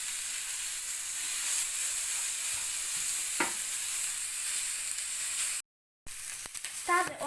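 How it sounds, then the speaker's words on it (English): Onions sizzle steadily in a hot pan while being stirred, a continuous close frying hiss with a brief scrape, a short dropout near the end, then clinks and faint movement. "Stir the onions until they just soften"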